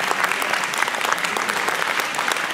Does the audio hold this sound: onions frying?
no